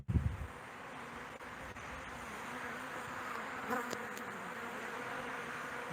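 Honeybees pour out of a Newfoundland hive for a cleansing flight, making a steady, continuous buzzing drone close by, with a brief thump at the start and no talking.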